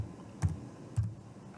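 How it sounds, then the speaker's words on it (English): Two separate computer keyboard key taps while a legal citation is entered for a law-report search, each a short, close, dry click about half a second apart, with quiet room tone between them. "we're going to type the citation,"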